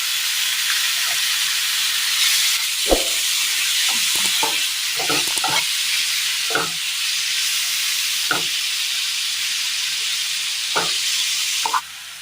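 Cooked broccoli stir-fried with an onion mixture in a pan for a Kerala curry, giving a steady close sizzle with scattered scraping stirs of the spoon against the pan throughout, no voices.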